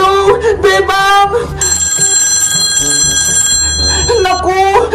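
Telephone ringing unanswered with loud, repeated bell-like trills broken by short gaps, close and prominent, with a voice heard beneath the ringing.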